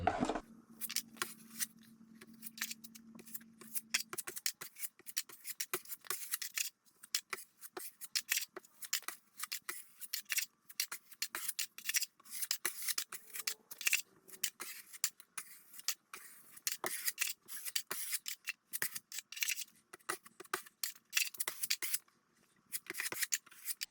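A putty knife scrapes and smears a skim coat of joint compound over drywall in quick, repeated strokes, close and soft, with brief pauses between passes.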